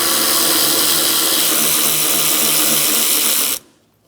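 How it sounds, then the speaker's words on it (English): Power tool removing two 8mm nuts from the taillight of a 2007-2012 Nissan Altima, a loud continuous whirring buzz that cuts off abruptly near the end, leaving near silence. "Remove the two 8mm nuts for the taillight."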